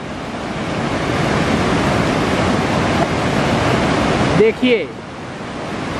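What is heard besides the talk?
waves of the Ganges river surging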